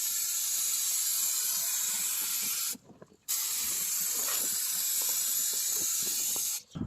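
Steady, loud hiss of a spray can laying a thicker clear coat over a repainted rusty door jamb, two long continuous bursts broken by a brief pause near the middle and a short stop near the end.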